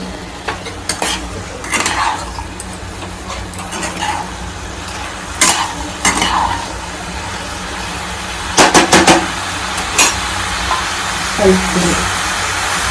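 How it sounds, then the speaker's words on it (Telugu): Beans being stirred into a masala curry pan, a low sizzle under repeated scraping strokes and utensil clatter, with several sharp clustered knocks near the end. "మొత్తం బీన్స్ వేసేసి ఒకసారి కలుపుకున్నాం"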